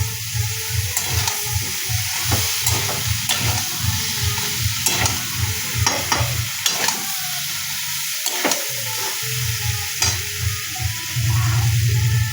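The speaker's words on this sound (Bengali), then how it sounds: "এবার আবার নেড়ে দেবে, ভালো করে নেড়ে চেড়ে দিচ্ছে, মশলা দিয়ে দিচ্ছে" Chhana (fresh cottage cheese) with spices stirred and fried in a pan, a steady sizzle under repeated scraping strokes of a spoon, close and continuous with no talking.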